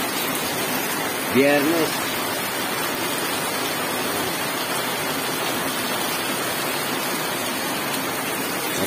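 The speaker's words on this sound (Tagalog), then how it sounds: "Yan, umuulan." Steady rain falls in a continuous loud hiss on a Friday afternoon, with someone speaking briefly over it near the start.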